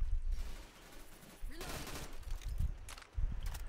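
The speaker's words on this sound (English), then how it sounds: "I guess Zoe's gonna shoot you." Gunfire in Left 4 Dead during the Blood Harvest campaign, scattered shots and short bursts of varying loudness with footstep-like scuffs between them, mid-distance and busy.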